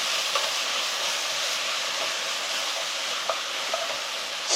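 Eggplant stir-fries in a pan just after the heat is switched off, with salt and sesame seeds added, giving a soft, steady sizzling hiss with a few faint clicks of stirring, close and quiet.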